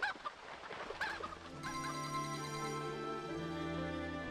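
Chickens freed from a cage in the video game Legend of Kay cluck and squawk in a busy burst near the start, then sustained tonal game music carries on underneath.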